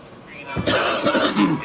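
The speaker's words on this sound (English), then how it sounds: "I just coughed in their ears." A sharp cough directly into a close microphone, a short burst followed by throat-clearing rasps, loud and near, with talking around it.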